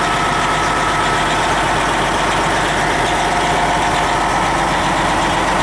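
A Detroit Diesel engine in an MCI 102 DL3 55-passenger coach runs at a smooth, steady idle, a continuous low rumble with a broad hiss over it that holds even and loud throughout, with no talk.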